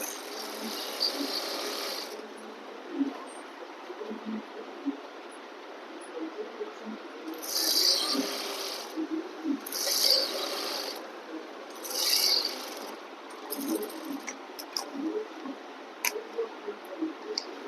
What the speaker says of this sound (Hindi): आप खींच के बीचों बीच सिलाई लगा देंगे।